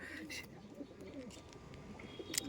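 Pigeons kept in a loft coo softly and continuously, with a low rumbling murmur running through the whole stretch and a few brief sharper sounds near the end.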